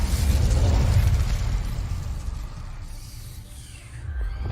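An Incendio fire spell is cast in the Hogwarts Legacy video game, giving a loud, rushing whoosh of flame with a deep rumble. It fades gradually over a few seconds and swells slightly again near the end, with no voices.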